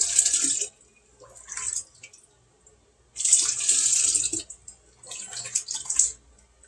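Tap water runs into a cooking pot in bursts as it is filled for water-bath canning, with a hissing, splashing gush that starts and stops several times between brief quiet gaps. No voices are heard.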